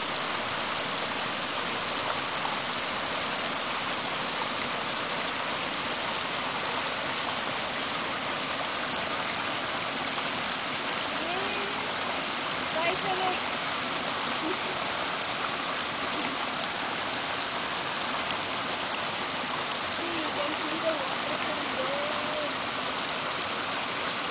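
A steady, broad rush of falling water roars on without pause, dense and continuous, with no voices.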